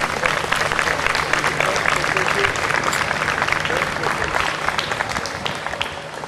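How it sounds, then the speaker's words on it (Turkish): Audience applauding the school's parents' association at a school ceremony, a dense, steady wash of clapping throughout that thins slightly toward the end. "Onları şimdi alkışlayabiliriz."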